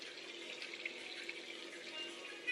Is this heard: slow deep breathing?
no